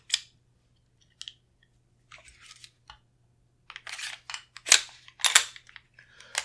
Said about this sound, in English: So reassemble the barrel.